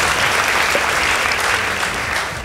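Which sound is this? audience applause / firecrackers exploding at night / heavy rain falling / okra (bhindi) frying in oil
audience applause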